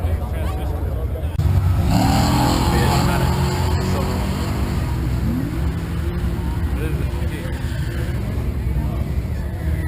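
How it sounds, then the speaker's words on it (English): A 1955 Ford drag car, clocking 122 mph, roars down the strip at a Florida raceway, with a loud, steady engine drone and crowd hubbub throughout. "Javier Lima's going to drive it down. 155 Ford, 122 miles per hour."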